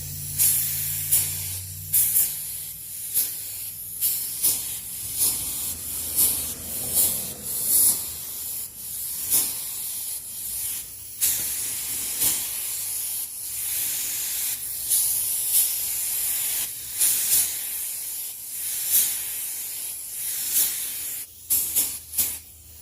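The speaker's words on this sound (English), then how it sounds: "now I'm gonna spray away from this, where this blend area is gonna be. So I'm gonna spray this way." A paint spray gun coats a repaired rear bumper of a Ford Explorer, giving a loud, steady airy hiss broken into many short repeated bursts as passes start and stop.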